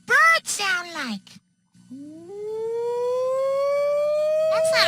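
A human voice imitates a fire engine siren with a long, steadily rising wail held for about three seconds, loud and close, after a short burst of speech.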